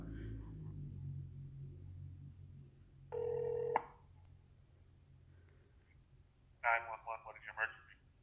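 An electronic phone ring tone comes over a Samsung Galaxy Express Prime on speakerphone, one steady burst of ringing, then a short patterned chirp, both clear above a low rumble of background hum.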